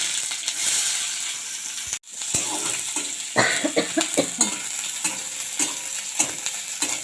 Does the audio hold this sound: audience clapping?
no